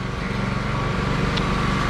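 Power sander fitted with 80-grit paper working across wood, a steady loud motor whine holding even and continuous from start to finish with no voices.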